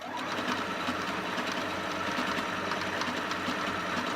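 A Singer 8500Q sewing machine running a stitch test, giving a steady close mechanical whir with rapid needle chatter that runs throughout, with no talk.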